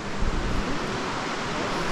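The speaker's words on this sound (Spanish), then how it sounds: "Aquí viene el río" A river rushes steadily near a stone arch in a park in San Cristóbal de las Casas, a broad continuous wash of flowing water with some wind buffeting, no voices.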